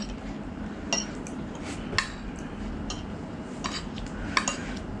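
A utensil clinks and scrapes against a bowl in a few scattered knocks as canned fish salad with kaffir lime and lemongrass is mixed, over a low steady background hum.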